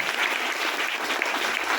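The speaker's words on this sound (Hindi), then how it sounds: "मैं चाहता हूं कि आप मेरे साथ अपने माता पिता के सम्मान में एक बार तहे दिल से जोरदार तालियां बजाएं" An audience at a meeting gives steady, hearty applause in honour of their parents, a continuous dense wash of clapping.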